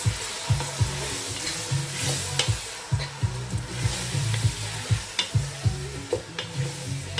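Onions frying in a pan for Nigerian fried rice: steady close sizzle with frequent scraping stirs and clinks of a utensil against the pan, continuous throughout with no talk.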